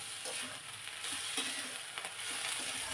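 Drumstick flowers sautéing with onion in a pan, a continuous close hiss of frying with light stirring scrapes and crackles throughout.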